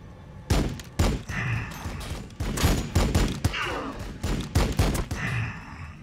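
Gunfire in Warhammer 40,000: Battlesector, a rapid series of loud, sharp shots and bursts in an uneven rhythm, close and dense throughout.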